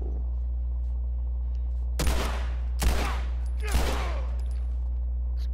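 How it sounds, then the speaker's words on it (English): Three separate loud gunshots ring out from The Last of Us, each a sharp crack with a short rumbling tail, spaced about a second apart over a low, steady game drone. "This gun's pretty slow."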